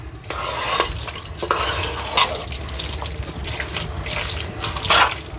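Laddu mixture being stirred and mixed by hand in a pan, a continuous wet, squishy churning with periodic louder scrapes and slaps, no voices.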